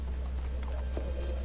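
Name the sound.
horse hooves clip-clopping in The Walking Dead video game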